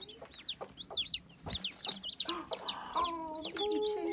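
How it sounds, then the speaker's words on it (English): Baby chicks and chickens on a farm, repeated soft clucks and high chirps coming in quick bursts, near and fairly quiet, with no talking. "Oh, baby chicks."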